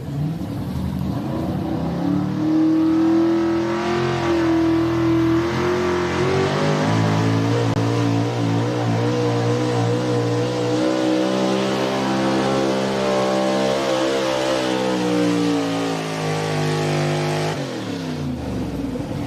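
A Chevy pulling truck at a championship truck and tractor pull in Snyder County revs hard and loud for nearly twenty seconds, its engine note climbing, dipping and wavering in a sustained roar with no talk over it.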